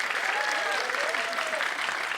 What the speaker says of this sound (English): A little bit of applause, not for me, but for this apartment complex